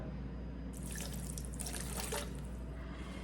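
Water is poured steadily into a bowl or container for seasoning a pork leg, a splashing, dripping pour starting partway through over a constant low background hum.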